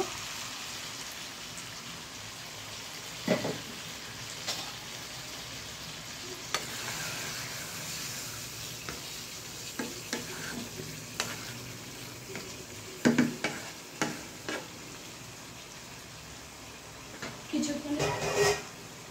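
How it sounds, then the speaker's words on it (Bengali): Chicken curry meat is stirred and fried in a pan, producing a continuous sizzle broken by irregular scraping and clinking strokes from the spoon, close and moderately loud, growing busier toward the end. "মাংসটা একটু নেড়ে চেড়ে দিব যেন নিচে পুড়ে না যায়।"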